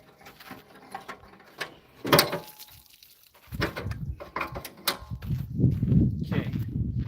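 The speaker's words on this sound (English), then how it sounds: "Tailgate's up." A pickup truck tailgate is worked by hand, with clicking latch and ratchet sounds, a sharp metallic clunk, then rustling and handling noises close by, under faint background sound.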